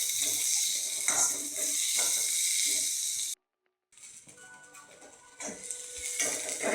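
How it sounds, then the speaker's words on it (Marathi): Onion fries in oil with ginger and garlic for a traditional banana-flower dish, giving a steady close sizzle with scraping stirs. It cuts to a short silence, then the sizzle comes back and grows louder. "आता आपला कांदा पण भाजत आलाय"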